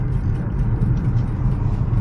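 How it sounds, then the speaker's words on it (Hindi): Road traffic on the mountain road to Mana village in Uttarakhand, a steady low engine rumble and tyre roar from a moving vehicle, even and unbroken for a couple of seconds. "आज देख रहे हैं यहाँ ट्रैफिक क्या है"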